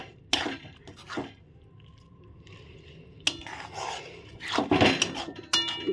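A spatula scrapes and stirs elephant apple pickle with fried cumin and fennel in a pan in a few short, rough bursts, with quiet pauses between the strokes.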